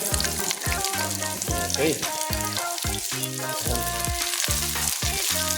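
Two onions hiss and sizzle in a pan of browned garlic for pork adobo, the frying running steadily beneath loud rhythmic background music, with a brief spoken word.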